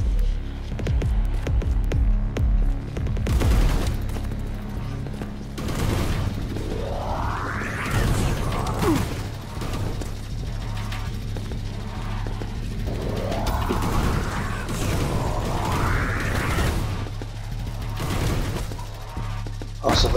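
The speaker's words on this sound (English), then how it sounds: "So those exploding ball things" Exploding ball-like things in a video game into a pit, giving bursts of booming blasts and crackling, rushing sweeps over a constant low hum, loud and busy throughout.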